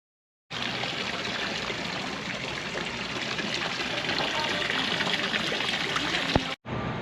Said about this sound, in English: Have a water fountain just for yourself.